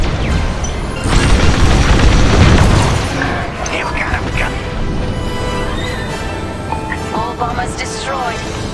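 A destroyed ship explodes in the Star Wars Squadrons space combat game: a heavy, booming blast that swells and rumbles for a couple of seconds, followed by fading debris, whooshes and electronic chirps, with radio-style voices talking over it.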